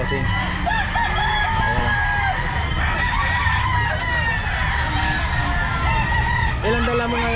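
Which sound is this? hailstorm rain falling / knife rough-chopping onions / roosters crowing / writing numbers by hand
roosters crowing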